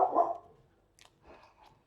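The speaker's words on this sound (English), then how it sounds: "And now my dog's like" A dog gives one loud, close bark at the start, then a few faint, muffled sounds follow in a quiet outdoor setting by a car.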